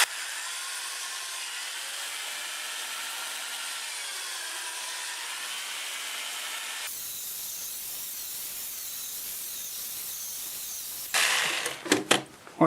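Steady hissing abrasive noise of sanding a square maple bowl on a wood lathe, continuous and even for most of the stretch, then changing character with brief louder scuffs and bumps near the end.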